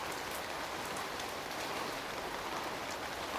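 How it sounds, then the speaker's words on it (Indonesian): Steady rainfall patters densely on a surface, an even, continuous wash of drops at moderate level with no speech over it. "Hujan juga. Hujan."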